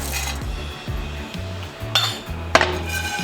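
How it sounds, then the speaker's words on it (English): Whole spices, including crushed cinnamon stick and peppercorns, rattle and scrape in a pan being shaken to toast them, with repeated rhythmic sliding clatter and a couple of sharper metallic clinks. "Keep moving the pan around."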